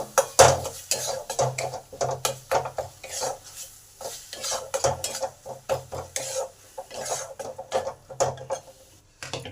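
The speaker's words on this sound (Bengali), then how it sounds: "হলুদ গুঁড়ো আর এখানে লঙ্কা ধনে জিরে যে একসঙ্গে বেটেছি সে বাটা মশলাটা দিয়ে দিলাম এগুলো ভালো করে কষে নেব" A paste of ground turmeric, chili, coriander and cumin sautéed in a pan, heard as a close, irregular series of scraping and stirring clatters of a utensil against the pan with soft sizzling underneath.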